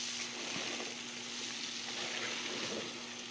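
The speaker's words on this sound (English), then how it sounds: "You hear the fizzing sounds of fermentation underway." Carbon dioxide bubbles rise through fermenting blueberry mead with a quiet, continuous fizz and soft crackle, close by and faint, with a steady low hum underneath.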